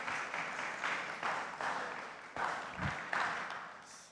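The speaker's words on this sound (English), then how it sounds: "So a big round of applause for everyone and event organizers as well." A conference audience at HiveFest 10 in Kuala Lumpur gives a steady round of applause, a dense, continuous wash of many hands clapping that swells in several waves without a clear break.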